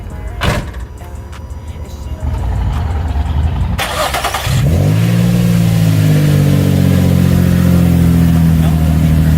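A Nissan 350Z engine fitted with test pipes cranks and starts, then idles and revs with a deep, rumbling exhaust note, loud and close, after some clattering and handling noises.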